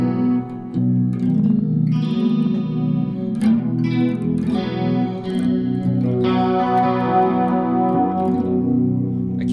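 Electric guitar played through an Ampeg Liquifier chorus pedal with doubled reverb, sustained shimmering chords and single notes swelling and overlapping in a wide, washy wash of modulated echo.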